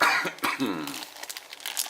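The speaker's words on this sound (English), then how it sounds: "Pardon the cough." A single harsh cough close to the microphone, followed by a brief throat-clearing rasp and a few soft rustles.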